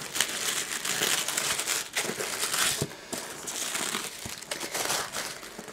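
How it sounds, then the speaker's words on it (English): Tissue paper crinkles and rustles continuously as a small-business package is unwrapped, with a few sharper crunches between steady close rustling. "very nice tissue paper"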